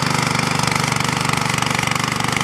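A 7.75 HP back rotary power tiller engine running close up, a steady, rapid, rhythmic chugging that stays even and loud without pause.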